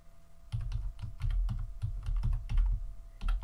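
Keystrokes clatter on a computer keyboard in quick, uneven bursts while someone writes CSS code, close and fairly quiet, with no talking over them.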